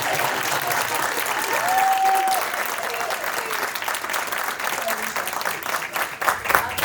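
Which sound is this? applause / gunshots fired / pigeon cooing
applause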